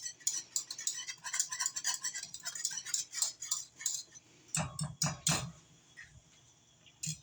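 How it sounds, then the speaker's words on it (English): A spoon stirs a flour roux in a pot for cream of mushroom soup, with quick clinking and scraping strokes against the metal and a few louder knocks near the end. "you're going to stir it for about a minute or two"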